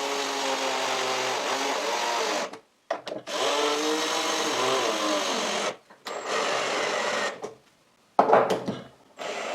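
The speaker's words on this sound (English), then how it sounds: "Now I can screw the router table into place." A power screwdriver drives screws into a homemade plywood router table in a workshop, whirring in several long bursts that rise in pitch as each screw sinks, with short pauses between, loud and close.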